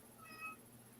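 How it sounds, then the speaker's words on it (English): A cat gives one short, faint meow, heard alone against a quiet indoor background. "Why did you wait till everybody was gone and meow at me then?"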